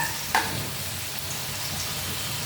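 Potatoes sizzle and crackle steadily in a hot pan with cumin seeds, with a brief clink of a utensil near the start.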